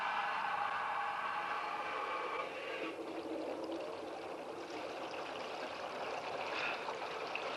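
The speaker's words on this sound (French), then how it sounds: "Remplissez le sas." Water rushes and pours steadily into a submarine airlock in an undersea adventure film, a continuous broadband gushing that holds fairly even throughout, with no voices.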